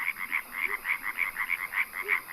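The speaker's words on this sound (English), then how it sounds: "The European tree frog is a 5-centimeter long amphibian." Male European tree frogs call in a rapid, rhythmic series of sharp croaking pulses, steady and fairly close, with no voices over them.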